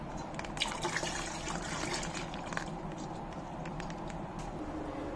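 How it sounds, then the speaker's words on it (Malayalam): Milk from two packets pouring into a large pot, a quiet continuous trickle with small splashes over steady background noise, no speech. "അതിലേക്ക് നമുക്ക് 2 കവറ് പാല് പൊട്ടിച്ച് ഒഴിക്കാം."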